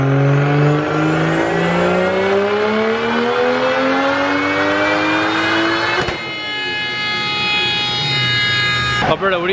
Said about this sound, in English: Alberto, what do you think of the BMW on the dyno?